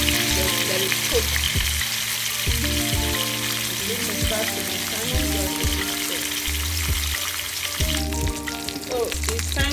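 Salmon fillets sizzle steadily in a hot frying pan, a close, continuous crackle with occasional clinks and stirring sounds and a brief brighter burst near the end.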